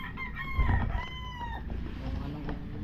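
A rooster crows one loud, drawn-out cock-a-doodle-doo with clear stacked harmonics. It is close by, against a busy outdoor background with low rumble, in the Philippines.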